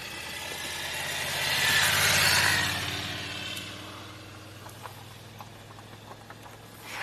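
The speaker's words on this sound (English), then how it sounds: "We've got a motorcycle behind us." A motorcycle passes behind, its engine hum swelling to a broad rumble, then fading back to a low steady drone with a few faint clicks, moderately distant.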